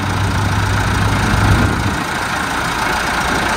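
A tractor engine idles steadily and loudly, its low rumble continuous throughout with no speech, a deeper throb fading partway through.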